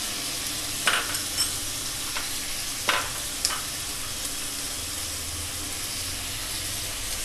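Mutton sizzles in a hot pan as salt, turmeric and red chilli powder are stirred in for gongura mutton. A loud, continuous frying hiss runs underneath a few scraping stirs of a spoon against the pan.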